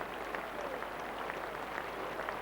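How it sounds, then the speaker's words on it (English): Applause rolls steadily around Old Trafford cricket ground during a Test match between England and South Africa, a dense continuous clatter of clapping from a large crowd heard at a distance, without any talk. "Loud applause round the ground."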